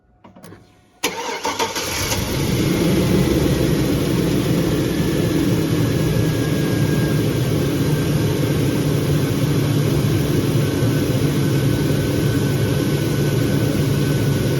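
A 2001 Chevrolet Suburban engine cranks and catches after a second, then settles into a steady, loud running idle that continues without voices.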